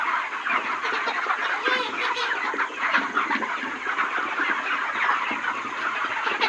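A crowd of chickens clucks and chatters continuously, many birds close together in a busy, overlapping murmur.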